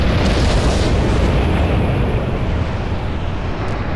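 A civilian evacuation transport lifts off in Halo Reach, a loud, continuous broadband roar of engines with rumbling low end, sustained and steady throughout with no talk over it.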